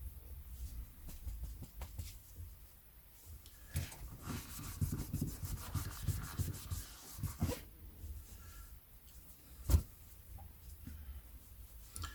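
A cloth rubbing over the covers of vintage Great Pan paperback books during cleaning, making close, dry, repeated scuffing strokes in uneven bursts with a single sharper tap, alone with no voices.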